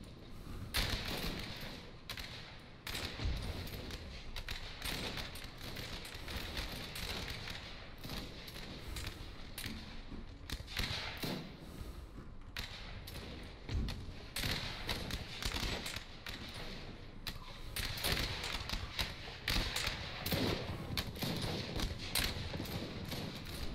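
Massed musket volleys from troops in Napoleon: Total War, a dense, continuous crackle of gunfire with dull thuds, moderately loud and sustained throughout, with occasional faint voices.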